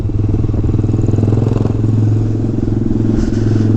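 A Honda Grom motorcycle engine rumbles steadily and loudly while riding through town, with a constant low drone and a rhythmic putter.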